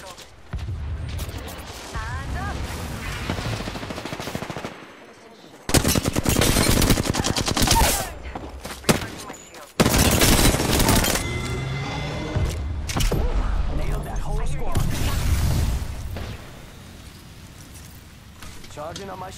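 Gunfire in the Apex Legends video game, with rapid automatic bursts and single shots coming in heavy clusters, mixed with thuds and game effects while voices talk over the action.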